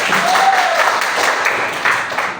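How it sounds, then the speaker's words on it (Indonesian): A classroom of students clapping together after a quiz, a short, loud burst of many hands close by, with a brief whistle-like tone early on. "Tepuk tangan kita semuanya."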